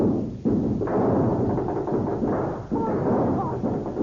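Gunfire sound effect in a radio drama shootout with a posse: a loud, dense barrage of shots and booming thuds that runs almost without pause for about four seconds, with faint voices mixed in.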